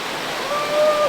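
The second waterfall at Gwe Gwe Beach Lodge in South Africa pours with a continuous close hiss of falling water that swells slightly toward the end, with faint thin tones above it.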